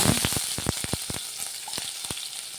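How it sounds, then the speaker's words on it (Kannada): Chopped onion drops into hot oil in a home kitchen pan while cooking an old-style sweet potato snack, giving a steady close sizzle with a rapid string of sharp crackles and pops throughout. "ಬಿಸಿಯಾಗಿದೆ ಈರುಳ್ಳಿ ಹಾಕೋಣ"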